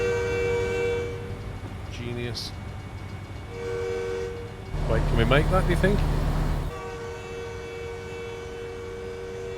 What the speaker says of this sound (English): Oh, the freight train's coming as well.